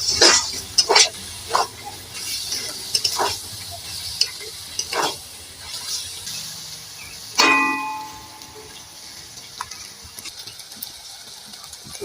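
Elephant foot yam stems sautéing in a pan with a steady sizzle, punctuated by a series of spatula scrapes and stirring knocks, one louder clatter near the middle, close up with no voices.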